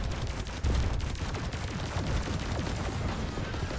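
Dense, continuous barrage of explosive weapon fire from mortars in the sci-fi shooter Warframe during a boss fight, rapid overlapping booms and cracks with no clear gaps between them.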